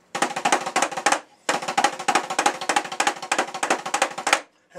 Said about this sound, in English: So I have like a variation of 2 loud, 2 soft, and I call it 2s.